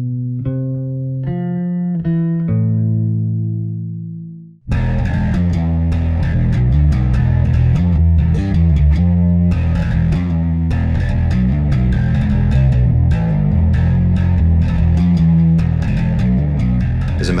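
Fender Troy Sanders signature Precision Bass with active electronics: a few clean plucked notes ring out, then a loud, gritty, distorted riff kicks in and drives steadily without pause.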